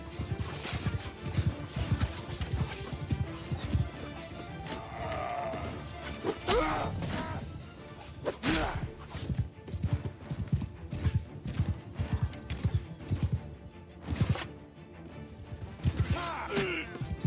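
Horses gallop into battle in a fantasy video game with the Old World mod, a dense, rapid clatter of hooves mixed with crashes and impacts, while a voice talks over the action.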